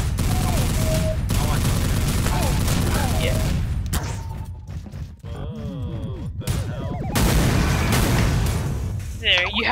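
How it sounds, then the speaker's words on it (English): An explosion plays in a shown clip, heard as a loud burst of booming, crackling blasts resembling a barrage of gunfire, broken by brief lulls, with voices talking over it. "I heard the explosion of that."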